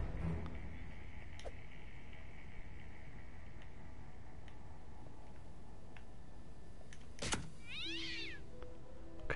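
Cat meowing in the video game South Park: The Fractured But Whole, one short clear meow near the end over quiet ambient game noise and a few ticks.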